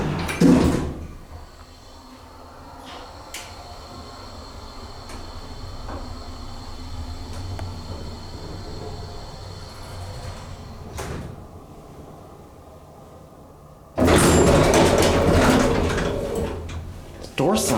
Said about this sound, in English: Door sounds obnoxious.